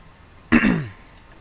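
A man clears his throat once, a short rough burst up close that fades over about half a second against a quiet room background.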